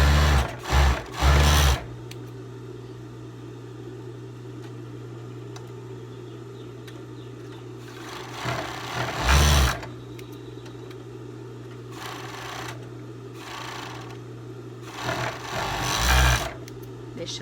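A sewing machine stitches a teddy jacket with a zipper, running in several loud bursts of rapid stitching separated by a steady motor hum and quieter pauses.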